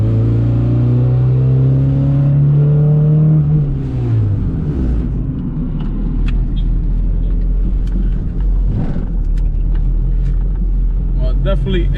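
Honda Civic EG with a D16 engine revs up in a rising pull, then shifts and settles into a rumbling cruise with road noise and occasional clunks over bumps, a driver's voice talking throughout.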